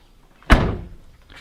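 A Volvo 850 tailgate swings shut and its lock latches in a single loud, close slam with a short ringing decay, the only sound in an otherwise quiet moment.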